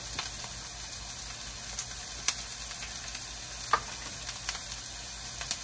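Onion frying in a pan, a quiet steady sizzle with occasional small pops and crackles, heard close and alone.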